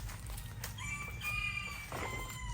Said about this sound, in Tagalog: Marami tayong manok doon.